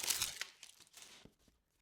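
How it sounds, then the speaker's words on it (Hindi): Plastic wrap is peeled off a Samsung Galaxy A71 phone box: a short, close crinkling tear, sharpest at the start and fading into a few light crackles. "बॉक्स पर लगे प्लास्टिक को उतार कर"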